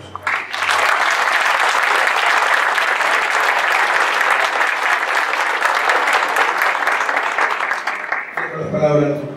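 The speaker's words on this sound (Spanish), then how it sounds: "Les pido un fuerte aplauso" An audience at a Mexican higher-education seminar applauds a guest speaker, a loud, sustained wash of many hands clapping for about eight seconds before it fades out and a voice begins speaking.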